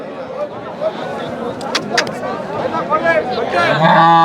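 Several cows moo over a busy outdoor din of chatter and movement at the Erragadda buffalo market in Hyderabad, with a louder, close bellow rising at the end.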